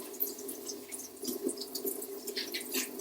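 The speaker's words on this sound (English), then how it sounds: "you let a lot of cold water run through the leaves" Cold tap water running through fresh spinach leaves in a sink, a steady close splashing stream with uneven bursts and drips as the leaves are rinsed.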